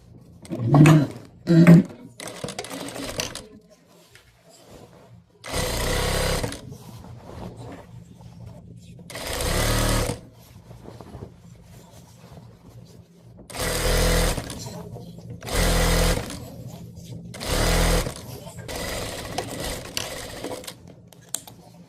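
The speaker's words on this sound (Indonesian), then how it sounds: "ini untuk jahit yang kain ada mote-motenya itu aku pelan-pelan biar nggak rusak jarumnya" Sewing machine stitching beaded fabric slowly, in repeated short runs of mechanical whirring separated by pauses, with some handling clicks near the start; close and clear, no talking.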